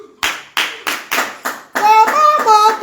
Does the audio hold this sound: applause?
yes